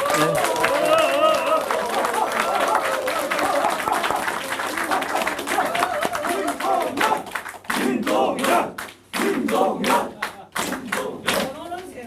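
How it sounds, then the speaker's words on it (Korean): An audience at a Democratic party members' meeting in North Chungcheong claps hard to welcome a presidential candidate, a dense burst of applause that thins into scattered, uneven claps while voices carry on underneath. "힘찬 박수로 환영합니다"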